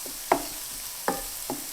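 Garlic sautés in a pan for chicken curry, a soft steady sizzle broken by three distinct scrapes of a spoon stirring the pan.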